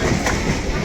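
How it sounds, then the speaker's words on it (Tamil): An EMU suburban train at a Chennai railway station gives off a brief, loud, steady rumble of wheels and carriages close by. "எதற்கும் ஒரு EMU ட்ரெயின் வருது."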